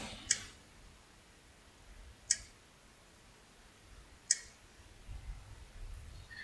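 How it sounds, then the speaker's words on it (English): Three sharp, quiet mouse clicks about two seconds apart, as a button is pressed in a bank management simulation game, with no talking. "click on the Go to Next Round button"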